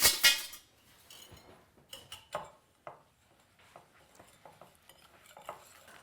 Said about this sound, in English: I'll give that a little whisk.